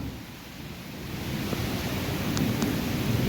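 Sudden heavy first-of-season rain with strong wind makes a steady, dense wash of noise that swells slightly louder over a few seconds, with no voices.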